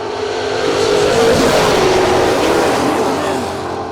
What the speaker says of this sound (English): Willie in the Mustang